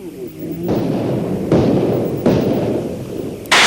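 Three loud, sharp gunshots at point-blank range, evenly spaced about three quarters of a second apart, each a hard bang over a noisy background, with a fourth abrupt burst at the very end.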